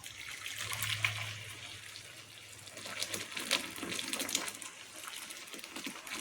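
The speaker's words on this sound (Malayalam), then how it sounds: "ഇതിലോട്ട് കുറച്ച് നമുക്ക് തിളച്ച വെള്ളം ഒഴിക്കണം" Boiling water is poured into a clay cooking pot, giving a steady splashing, trickling pour that runs for several seconds near the microphone and then thins out, with no talking.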